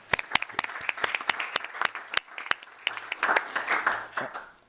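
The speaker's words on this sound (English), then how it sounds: "I didn't ask you to give Laszlo a round of applause, but I think we should" Applause at a public debriefing meeting, starting as a few sharp, separate claps near the microphone and thickening into fuller clapping from the audience, moderately loud.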